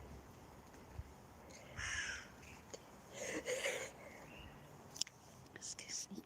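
Crows give several harsh caws in separate bursts outdoors, moderately close, while people whisper quietly in between.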